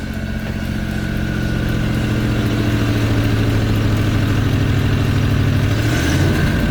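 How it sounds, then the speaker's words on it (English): A 1989 Ford Bronco engine idles high right up close, a loud steady droning rumble whose pitch wavers and drops near the end as it sputters unevenly. "Oh, it's sputtering. You hear that?"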